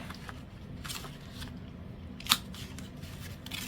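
Scissors snipping paper while envelopes are cut out for crafting, a few soft close cuts with one crisp snap, quiet and with no talk.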